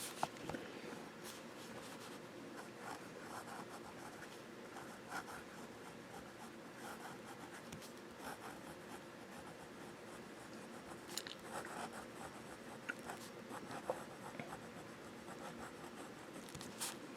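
A Hero 616 fountain pen nib scratches and glides across paper in a steady faint rub with small irregular ticks, very quiet and close, heard alone without talk.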